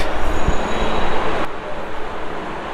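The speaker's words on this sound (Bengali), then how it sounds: "এটা হচ্ছে মতিঝিল রেলওয়ে স্টেশন মানে মেট্রো স্টেশন" A metro train at Motijheel metro station in Dhaka: a loud, close rumble of rolling carriages with a faint high whine, easing down somewhat in the second half.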